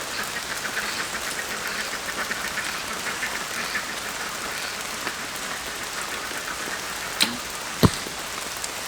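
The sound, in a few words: rain falling on a bow outdoors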